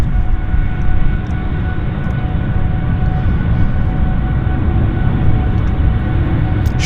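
A short Boeing 777 airliner accelerating down the runway at Vancouver airport, its engines a loud, steady broadband roar held close and unbroken throughout, with no voices over it.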